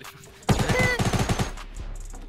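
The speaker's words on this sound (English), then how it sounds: "They're trying to shoot us down." Burst of rapid automatic gunfire in a Fortnite match, sharp repeated shots starting abruptly and loud, then trailing into scattered echoing cracks.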